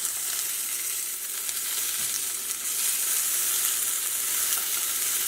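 Cod fillet searing in a hot pan, a steady, dense sizzle and crackle that holds at an even level throughout with no voices.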